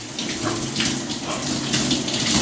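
A cold shower runs in a steady, hissing spray of water, close and continuous with no voices over it.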